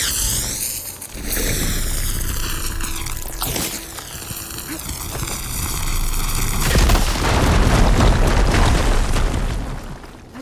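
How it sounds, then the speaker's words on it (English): A fire gleam blowing up in Horizon Forbidden West: a deep, swelling explosive boom with a long roaring rumble that builds and lingers, following rising and falling tonal whines. "Should be able to blow up that fire gleam."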